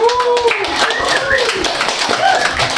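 Clapping from a live quiz-show audience for a band, short and busy under voices and some laughter, with hands patting close by in a lively room.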